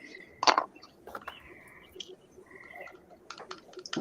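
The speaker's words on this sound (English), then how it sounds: "Can everybody hear the frogs?" Frogs croaking outdoors at night, a sharp nearby croak followed by scattered chirping calls and clicks at varying distances, irregular and fairly quiet over a hushed background.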